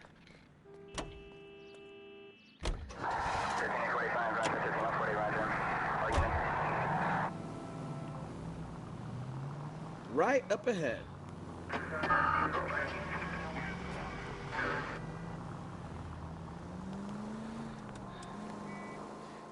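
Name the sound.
car driving in L.A. Noire video game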